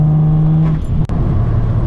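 A BMW 335i with a single-turbo N54 engine and a 3-inch resonated single-exit exhaust drones loudly at steady revs, then drops sharply with a brief pop before settling into a lower rumble.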